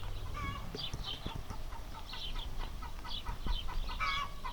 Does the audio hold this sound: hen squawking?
yes